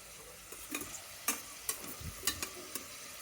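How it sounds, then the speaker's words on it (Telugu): Garam masala spices frying in a pan for bagara rice, a soft, steady sizzle punctuated by several sharp spoon scrapes and taps at irregular intervals, close and fairly quiet, with no talking. "ఎర్రగా వేగాలండి రెండును."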